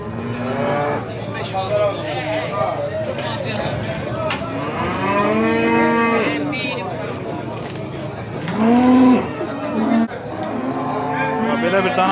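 A calf moos repeatedly at a livestock market, with long, drawn-out bellowing calls that are loud and near, while people talk in the background and a lower, heavier moo comes through near the end.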